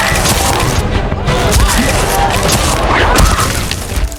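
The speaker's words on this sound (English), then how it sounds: "Star-Lord stunned her with a blast from his gun" Gun blast from Star-Lord's weapon in an animated Guardians of the Galaxy episode, heard as a loud booming burst over dense action noise and score, with a sharp impact near the end.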